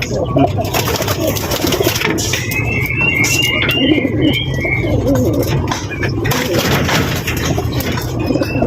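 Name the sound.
racing pigeons cooing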